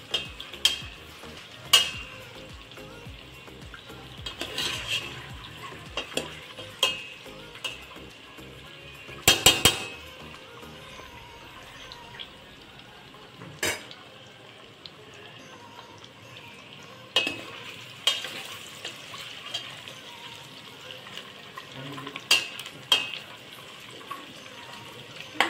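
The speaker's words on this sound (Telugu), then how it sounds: "అన్నీ ఇలా క్రిస్పీగా వేయించుకోవాలి" Eggs frying crisply in a pan for egg biryani give a steady hiss of sizzling oil, broken by sharp clinks and scrapes of a utensil turning them, with no talking.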